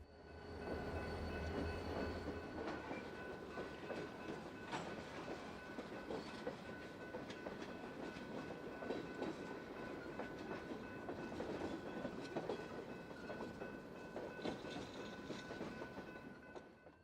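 A DeQueen and Eastern Railroad train departing a rail yard rumbles steadily past with rolling wheel noise and faint clickety-clack, a continuous mechanical drone with high tonal squeals over the whole stretch.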